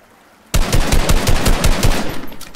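A rapid burst of automatic gunfire in a battle royale video game starts abruptly after a quiet moment, with sharp repeated shots firing loudly and steadily close by.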